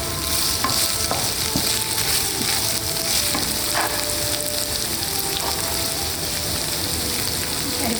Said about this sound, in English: give that a stir. Keep this on high. Let the onions cook through